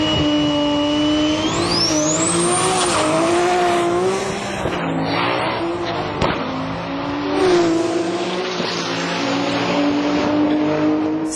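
A turbocharged Toyota Supra with a 2JZ engine, T51R ball-bearing turbo and HKS engine management runs at a drag meet in Sendai, its engine howling and rising in pitch at full throttle with tire squeal, loud and close throughout.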